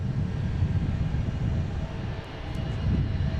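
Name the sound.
airplane on its takeoff roll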